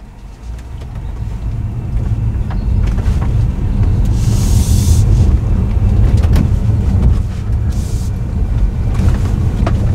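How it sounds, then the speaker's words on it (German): A Tesla Model 3 Performance electric car pulls away and drives on a rough road, giving a steady low rumble of tyre and road noise with faint wind, no engine note, heard from inside the cabin. "Ihr merkt schon vom Umgebungsgeräusch her, das Fahrzeug sehr leise."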